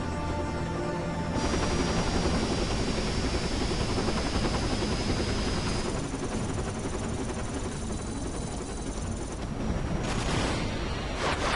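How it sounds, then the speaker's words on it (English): Helicopter in the action video game Dirge of Cerberus, a steady loud rotor and engine drone running the whole time under game music and crashing effects. "Oh, hey, it's the helicopter again"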